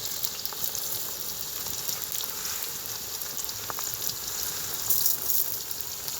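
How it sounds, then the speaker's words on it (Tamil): Onions frying in hot oil with mustard seeds, fenugreek and cumin in a village outdoor kitchen, a steady close sizzle and crackle throughout with a few brief pops, no talking. "எண்ணெய் வச்சுட்டு வெங்காயத்தை போடுவோம்."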